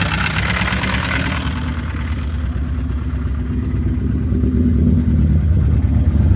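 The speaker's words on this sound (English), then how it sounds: "it's seriously still misfiring big time" A 1977 Vauxhall Cavalier mk1 engine runs loud and rough nearby, a steady throbbing idle with an uneven, stumbling misfire throughout and no talking.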